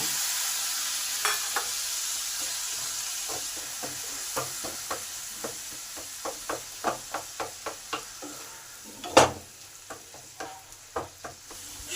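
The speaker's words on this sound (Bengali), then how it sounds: "ভালোভাবে এই মশলাগুলোকে একটু নেড়ে নেব যতক্ষণ এর কাঁচা গন্ধ থাকছে ততক্ষণই নাড়তে হবে" Spices and boiled tomato fry in a pan, a steady close sizzle broken by a string of sharp spatula taps and scrapes that grow more frequent, with no talking.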